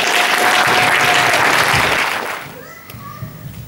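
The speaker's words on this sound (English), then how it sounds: "please give her a round of applause." A church congregation applauds loudly at a Sunday service, with dense clapping that fades out after a couple of seconds into a quieter room with faint voices.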